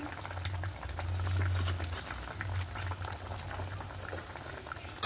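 Steady bubbling of a pot of half-boiled potatoes as flour dumplings go in, a soft close boil with gentle liquid churning and no talk.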